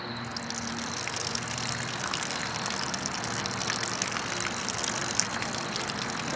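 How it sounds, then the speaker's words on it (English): Water gushing and trickling steadily as it drains out of an RV fresh water tank, a continuous rushing flow with a faint low hum underneath. "We'll let it drain for a little bit and try again."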